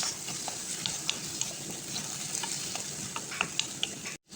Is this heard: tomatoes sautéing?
yes